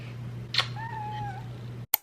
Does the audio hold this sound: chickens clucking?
no